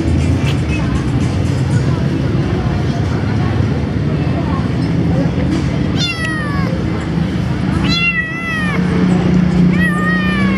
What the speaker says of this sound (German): Wir haben ein kleines Katzenbaby.